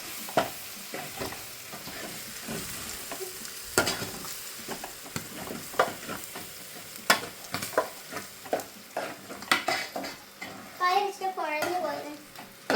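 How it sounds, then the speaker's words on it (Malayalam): Food frying in a pan is stirred by hand, with soft sizzling under irregular scraping strokes. A voice is heard near the end. "അതിലേക്ക് ഇട്ട് ഇങ്ങനെ ഇളക്കട്ടെ."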